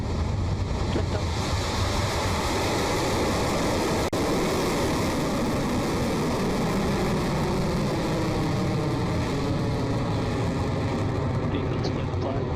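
A Rocket Lab rocket lifts off from the launch pad, heard as a dense continuous roar with a steady hiss held at constant loudness from start to end.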